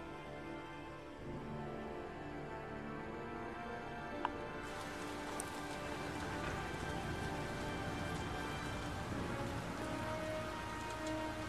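Rain pours steadily in the video game Heavy Rain, a continuous dense patter on surfaces with a slight brightening partway through, heard alone and moderately loud.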